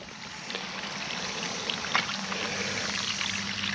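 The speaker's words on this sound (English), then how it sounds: "Let's check this middle tile down here and see if it's still running some water out." Groundwater pours steadily from a field drainage tile outlet, a continuous close splashing trickle with no voices.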